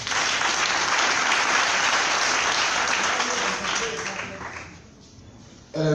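Loud, dense applause from a crowd at a political campaign event fills the space, then fades away before a brief burst returns at the end.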